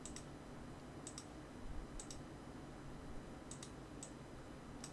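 A computer mouse in a drafting program, double-clicked several times, giving faint, crisp paired clicks spaced across a quiet room hum.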